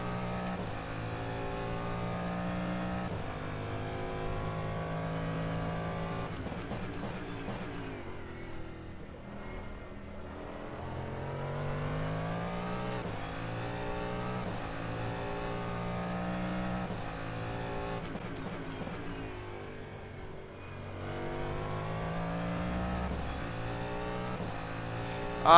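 A race car engine in the rFactor 2 racing game screams steadily, climbing through revs, dropping sharply on downshifts and braking twice, then winding up again, loud and continuous.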